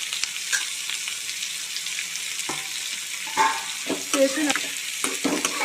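Curry leaves sauté in a hot pan for curry leaf chutney, with a steady sizzle and occasional scraping stirs of a spoon, close and moderately loud.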